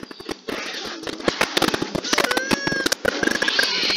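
A gun in the Aliens vs Predator video game fires rapid, sharp cracking bursts in irregular clusters, loud and close, mixed with faint whining tones.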